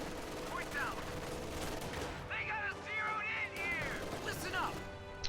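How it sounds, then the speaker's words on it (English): An MG42 machine gun fires in a strategy video game, rapid bursts under battle noise while a commentator talks over it. "MG42 will fire on him."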